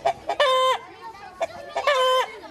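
Marans hens in a school garden give several short bursts of clucking and drawn-out calls, close and fairly clear, with quiet gaps between.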